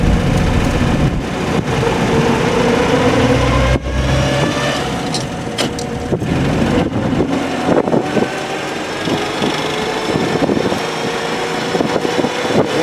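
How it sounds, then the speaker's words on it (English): A car engine runs loud and close while driving, a continuous drone with gear whine rising and shifting over the drive, no talking. "You can hear the gears whining like a baby."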